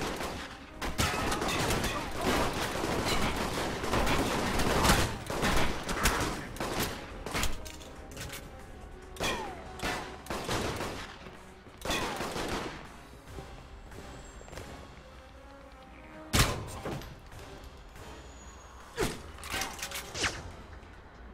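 Rapid gunfire from the video game Alpha Protocol crackles in dense bursts, with sharp repeated shots and short pauses between volleys, loud and close throughout.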